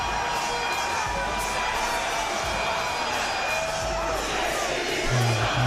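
A large arena crowd roars and chants continuously for Michael Jordan's entrance, a dense, steady wash of cheering and shouting voices filling the space, slightly swelling near the end.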